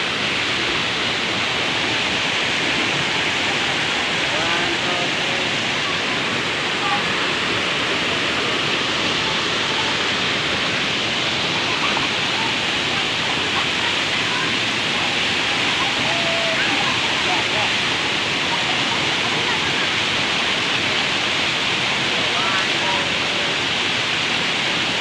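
Inambakan Falls in Ginatilan, Cebu pours with a steady, loud, broadband rush of falling water that holds unbroken throughout, with faint voices now and then beneath the roar.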